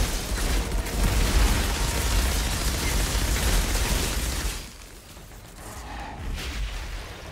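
Dense, roaring explosions and gunfire fill the first few seconds of the video game Outriders Worldslayer, then drop off abruptly into quieter rumbling and scattered effects.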